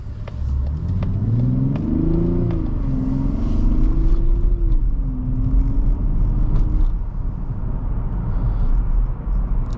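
A 2024 Mazda CX-90 family SUV pulls away on a morning commute, its engine rising in a smooth, deep drone that climbs and then settles into an even cruise, loud and close under steady road rumble.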